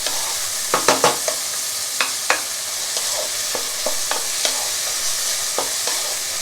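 Sliced onions and a little coriander fry in a pan with a steady broadband sizzle, punctuated by irregular scraping stir strokes, close and alone with no voices.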